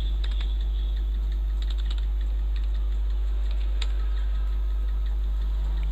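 Keys on a computer keyboard are tapped in short bursts as a name is typed, quiet clicks under a constant low electrical hum.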